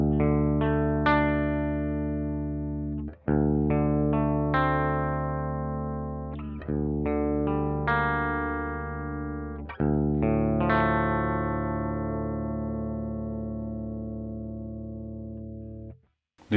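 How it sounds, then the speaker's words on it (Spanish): Electric guitar run through a DSM Humboldt Simplifier into a 4x12 cabinet, played with heavy distortion: several sustained, ringing chords, each struck and left to decay for a few seconds, loud and close with no voices. "Distorsión."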